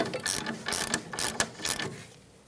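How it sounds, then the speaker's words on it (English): A ratchet driving an 18 mm socket to tighten a front sway bar link on a 2008-2013 Nissan Rogue gives about five quick bursts of close, rapid metallic clicking with short pauses between strokes. "then an 18 millimeter socket. We're just going to snug it up"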